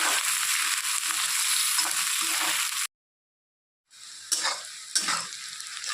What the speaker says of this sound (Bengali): কেটে রাখা পেঁয়াজ কাঁচা ভালো করে ভেজে নেব পেঁয়াজগুলোকে